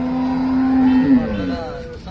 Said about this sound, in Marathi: चांगलं कालवड आहे चांगली गाय आहे